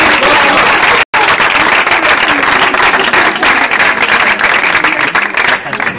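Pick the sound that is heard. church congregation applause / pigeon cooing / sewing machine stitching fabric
church congregation applause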